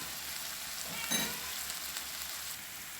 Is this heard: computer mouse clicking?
no